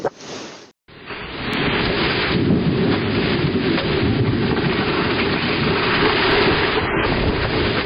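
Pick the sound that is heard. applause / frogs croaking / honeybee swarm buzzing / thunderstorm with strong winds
thunderstorm with strong winds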